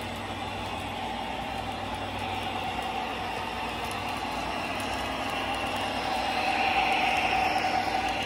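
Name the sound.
Lionel TMCC American Freedom Train model train running on tri-rail track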